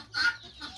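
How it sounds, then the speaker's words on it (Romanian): A short, close cluck from a small rooster, a single bright burst rising and fading within a second. "un cocoșel pitic foarte frumos"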